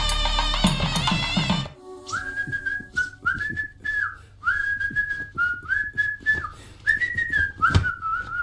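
A person whistles a lively tune in short melodic phrases, clear and close, following a brief burst of background music at the start.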